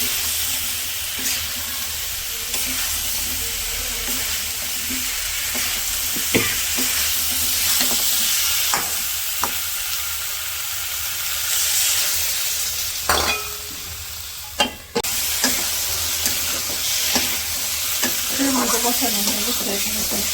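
Vegetables frying and being stirred in a pan of fried-down ground spices in a village kitchen, a steady close sizzle with scraping stir strokes and occasional clinks running throughout.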